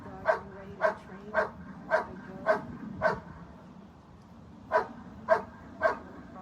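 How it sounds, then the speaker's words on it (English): Dogs waiting for service-dog training outdoors bark in sharp single woofs, six evenly spaced, then a short pause and three more, moderately near over faint background noise. "Some of the dogs getting ready to be trained."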